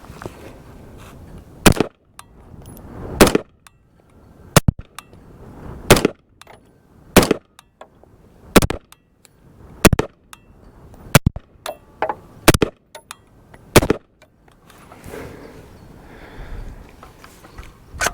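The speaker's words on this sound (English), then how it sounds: "this is going to be the WK-180C Generation 2, and we're going to fire 10 rounds" A WK-180C Generation 2 pistol fed from a Cross Industries 10/10 magazine fires about ten sharp, loud, close shots in an even cadence roughly a second apart, with quiet between each report.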